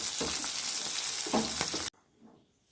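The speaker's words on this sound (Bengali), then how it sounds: "সিমগুলোকে হালকা ভেজে নেব" Flat beans lightly frying in a pan give a steady, close sizzle with a few soft stirring scrapes, then the sound cuts off abruptly into near silence.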